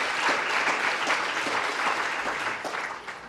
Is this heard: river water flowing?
no